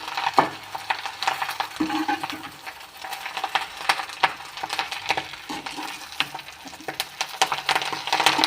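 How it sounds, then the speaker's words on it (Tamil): Curry leaves fry in hot oil for a curry leaf chutney while a spoon stirs them, giving a continuous close sizzle broken by frequent scraping and clinking strokes against the pan. "கருவேப்பிலை வந்து எண்ணெயில் பொரியணும்"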